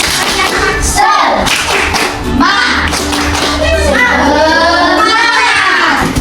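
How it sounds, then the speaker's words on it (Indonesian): Children in a classroom perform rhythmic spirited clapping, loud bursts of claps and thumps mixed with their shouting voices in a lively, patterned sequence. "Oke, yuk coba tepuk semangat."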